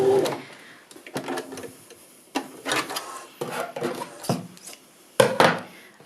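A sewing machine back tacks around a curve in fabric, making short bursts of close mechanical stitching and clattering separated by brief pauses as the fabric is turned.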